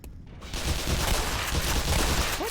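Rapid gunfire in the video game Black Mesa, a dense continuous burst of shots after a short quiet start, loud and close with no talk over it.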